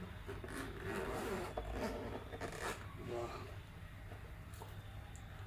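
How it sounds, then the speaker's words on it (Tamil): The zipper on a GoPro HERO 9 carrying case is pulled open in a few quick raspy strokes, close by, while someone talks over it. "சின்ன ஒரு ஜிப்பு கொடுத்துருக்காங்க. நம்ம ஜிப்பு ஓப்பன் பண்ணலாம்."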